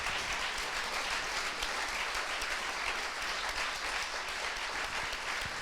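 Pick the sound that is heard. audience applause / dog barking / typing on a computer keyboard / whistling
audience applause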